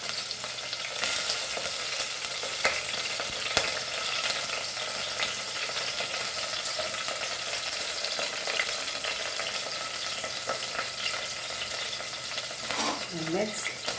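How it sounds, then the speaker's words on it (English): Garlic and chili fry in a pan with a steady, close sizzle that runs unbroken throughout, with occasional stirring scrapes and a faint clink near the end. "and let's fry this nicely"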